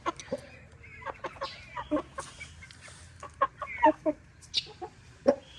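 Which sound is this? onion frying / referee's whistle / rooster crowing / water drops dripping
rooster crowing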